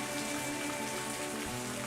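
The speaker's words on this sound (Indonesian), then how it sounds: "hujan mulai berangsur reda" Rain falls on surfaces in a dense, even patter, close and steady throughout with no talking.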